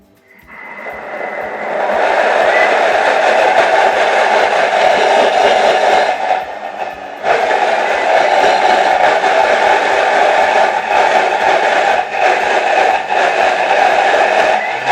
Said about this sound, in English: So I'm going to give this a quick blitz.